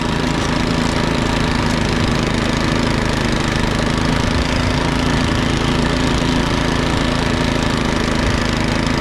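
Entry-level MTD-made snowblower engine running steadily while clearing about two inches of snow, a loud, close, continuous small-engine drone with an even churning rumble throughout.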